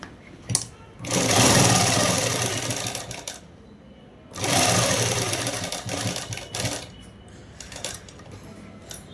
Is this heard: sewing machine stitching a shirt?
yes